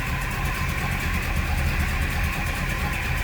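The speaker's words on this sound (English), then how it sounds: "There it is, 327 V8." A 1966 Chevrolet Impala SS with a 327 V8 idles steadily, a low continuous rumble heard alone without any talking.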